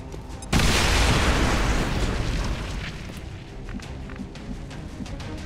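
Frag grenade detonation in XCOM 2: War of the Chosen, a sudden loud boom after a brief lull, followed by a long rumbling, crackling decay that slowly fades over several seconds.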